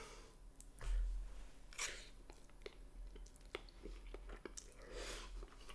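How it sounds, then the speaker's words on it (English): Someone eats Nissin sesame instant noodles up close, with soft slurps, bites and wet chewing in an irregular run of quiet mouth sounds and a few louder thumps. "Let's have some noodles."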